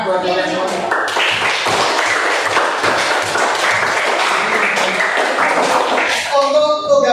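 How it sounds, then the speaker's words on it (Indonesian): A class applauding its students, a burst of brisk clapping under a teacher's voice, close and fairly loud, fading as the clapping thins out near the end. "Beri tepuk tangan buat kalian semua"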